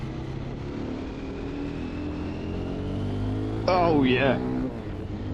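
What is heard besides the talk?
motorcycle engine accelerating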